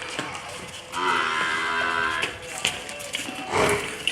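A young buffalo heifer lets out a long, low moo nearby, followed by light tapping and shuffling sounds.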